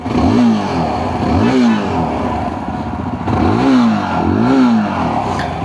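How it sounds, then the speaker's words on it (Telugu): A Yezdi Adventure motorcycle engine revs loudly and up close, its exhaust rising and falling in several throttle blips over a steady idle, in traffic. "ఒకసారి ఎగ్జాస్ట్ సౌండ్ వినండి."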